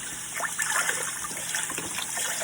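Chicken stock from a large box pours steadily into a crock pot, a continuous close splashing trickle with no pauses.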